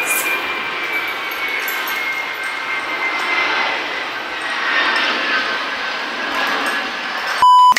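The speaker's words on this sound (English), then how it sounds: "if y'all hear any planes throughout this video" A fixed-wing airplane flies over near Honolulu airport, a loud, steady engine roar that fills the whole stretch and swells slightly in the middle, with no talking.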